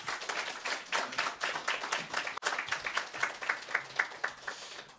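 A church congregation clapping to welcome the pastor, rhythmic, fairly close claps in steady pulses for several seconds with a brief break midway.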